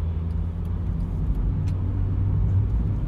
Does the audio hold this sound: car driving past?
yes